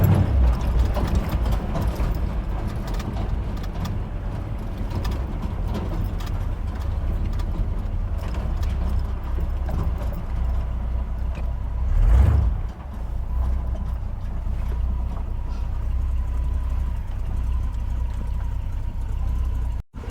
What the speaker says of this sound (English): the more I listen to this truck, that can't be a stock cam, can it?